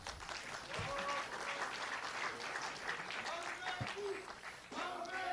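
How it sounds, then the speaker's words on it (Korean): Sustained audience applause at a political party convention as candidates for the supreme council stand on stage, dense clapping filling the whole stretch with faint voices under it. "여러분 모두 큰 박수를 부탁드리겠습니다."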